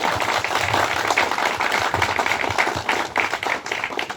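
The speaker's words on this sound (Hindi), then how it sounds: "जोरदार तालियां।" An audience at an honouring ceremony for a Ranchi army recruitment rally merit candidate claps continuously, a dense rattle of many hands sustained at steady strength with no one speaking.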